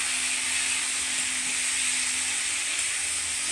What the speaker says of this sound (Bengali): যখন মাছটা ভাজতে থাকি বন্ধুরা, চলো পাশে পেঁয়াজ দিয়ে দিচ্ছি